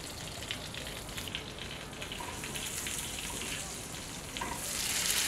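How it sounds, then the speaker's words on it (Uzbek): Garlic fries in melted butter in a pan, giving a soft, continuous sizzle and crackle at low volume that swells slightly toward the end. "Sarimsoqimizni solib yaxshilab qovurib olamiz."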